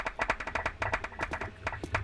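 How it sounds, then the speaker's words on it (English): Scattered clapping from a few people at a seminar, sharp individual claps in an uneven rhythm with several hands overlapping, fairly close and clear, without talk. "somebody's clapping"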